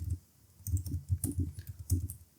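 Keys on a computer keyboard tap in quick uneven bursts, soft close clicks with brief pauses, no voices.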